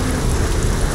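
Steady rain in the racing game Assetto Corsa, a dense continuous hiss and patter that stays loud and even throughout, with no voices over it.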